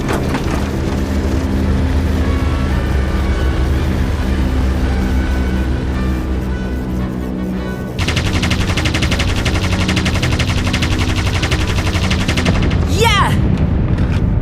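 Vickers machine gun firing in the World War II flight game Aviators, a dense continuous stream of rapid shots layered over a droning plane engine, loud and sustained with a sharper burst partway through.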